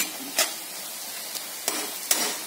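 A spoon stirring curry in a pot, a few brief scraping knocks against the pan over a soft steady sizzle.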